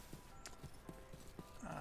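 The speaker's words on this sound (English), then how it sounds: "standing on the horse cart" Horse hooves clip-clop steadily as a horse cart moves in a video game, a faint, regular series of soft knocks close by with a quiet background.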